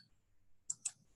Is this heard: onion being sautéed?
no